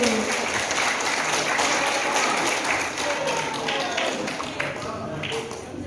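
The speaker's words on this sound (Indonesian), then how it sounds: "Aplaus yang meriah untuk kita semuanya Bapak Ibu." An audience at a financial seminar in Sigi applauds in sustained, dense clapping that fills the room, with a speaker's voice heard over it at times.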